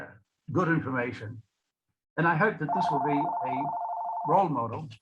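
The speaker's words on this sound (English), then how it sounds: "My apologies, that was the phone." A telephone rings during a speaker's talk on Rotary and peace, a steady electronic tone sounding beneath and between the speaker's continuing speech.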